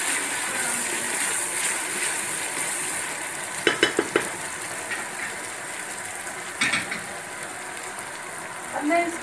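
Whole spices, including cinnamon, green cardamom, clove and black peppercorns, frying in a pot, a steady close sizzle broken by a few sharp crackling pops, with a voice talking over part of it.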